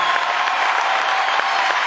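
A crowd applauds a rock band at a live show, a thick, even roar of clapping and cheering that fills the short moment without a break.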